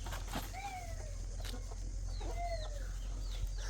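Chickens cluck and squawk in short calls over a steady low hum, a few birds heard in a quiet outdoor setting.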